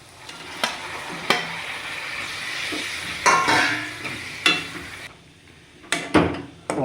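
Chicken frying in a pan gives a continuous close sizzle, broken by sharp metallic clanks of a spatula or spoon against the pan every second or so.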